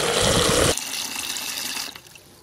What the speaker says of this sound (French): quand l'eau commence à couler, vous arrêtez.